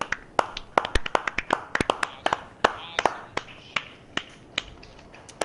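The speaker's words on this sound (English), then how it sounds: "Big round of applause for Mike and the work that he did on that vi" Scattered claps and sharp snaps ring out close by at a Ravens town hall, a sparse and uneven smattering rather than full applause.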